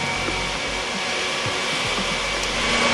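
Cabin of a Swiss Airbus A321 during takeoff, a loud, steady broadband engine and airflow roar that builds slightly toward the end, with no voices.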